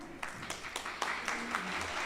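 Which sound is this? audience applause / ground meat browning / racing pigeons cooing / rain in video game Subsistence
audience applause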